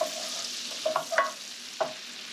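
Food sautés in melted butter in a pan, a faint soft sizzle broken by a few quick scraping stirs of a utensil, close and quiet.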